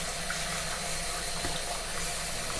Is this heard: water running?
yes